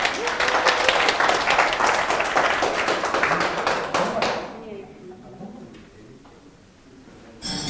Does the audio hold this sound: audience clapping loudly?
yes